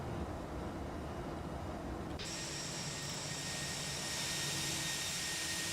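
Steady broadband roar from the jet engines of a ToLiss A319 in Alitalia livery in the X-Plane 11 flight simulator, loud and continuous with a high whine appearing partway through, no talk.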